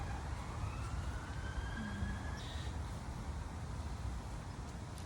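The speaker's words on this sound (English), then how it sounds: "I might wait for the police siren to finish before I start" A distant police siren wails faintly through a steady, loud background rumble of traffic or wind, its rising and falling tone barely above the noise.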